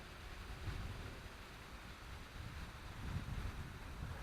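Steady wind buffeting an outdoor microphone, a continuous low rumble that swells and eases without pause during a quadcopter flying session.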